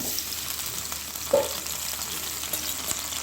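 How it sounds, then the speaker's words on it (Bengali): Small potato pieces fry in white cooking oil, a steady soft sizzle running throughout with one brief clink of a utensil midway; no talking. "তেলের মধ্যে আমি ছোট ছোট করে একটা আলু ভেজে রেখেছিলাম, এই আলুটাকে আমি তেলের মধ্যে দিয়ে দেব"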